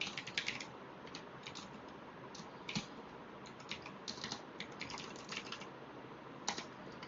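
Steady typing of Python code on a computer keyboard, with close, quick key clicks coming in uneven bursts and short pauses; no voices.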